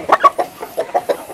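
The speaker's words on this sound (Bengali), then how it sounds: "এটা মুরগি দেখতেই পাচ্ছেন যে আসলে টাইগার মুরগি" A tiger chicken clucks close and loud, a quick run of about eight short clucks in an uneven rhythm with no talk over it.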